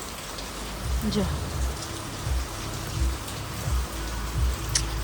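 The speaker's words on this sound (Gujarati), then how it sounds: "બહુ વરસાદ પડ્યો છે, ચાલુ જ છે" Rain pours steadily in a dense, even hiss of drops striking surfaces, with periodic soft low thumps underneath and a brief word spoken partway through.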